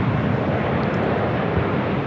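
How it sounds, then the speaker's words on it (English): A Delta Boeing 767-400ER airliner arriving at LAX from JFK passes as a loud, steady, broadband jet roar, heard alone without any talk. "Also have a Delta Heavy. Delta Airlines Flight 771 coming in from JFK. 767-400ER."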